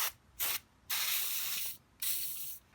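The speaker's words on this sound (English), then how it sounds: "Let's spray oil on that." Short aerosol oil bursts sprayed onto the worn pulley bearing of a tumble dryer, three hissing blasts of varying length with brief pauses between, close and fairly loud.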